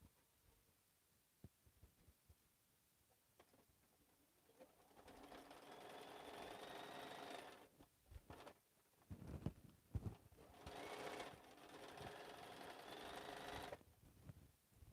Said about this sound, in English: So now I'm going to sew a 1/4 inch seam